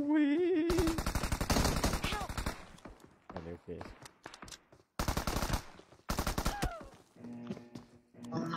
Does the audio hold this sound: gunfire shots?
yes